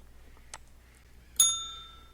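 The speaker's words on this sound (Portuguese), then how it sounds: "Tá aí a campainha, muito bem." A faint tap is followed by a single bright bell ding that rings out and slowly decays in a quiet room.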